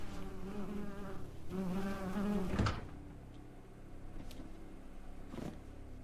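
Flies buzzing in the video game MiSide, a close, droning insect hum with rising and falling pitch that swells, then thins out into fainter buzzing, with no talking.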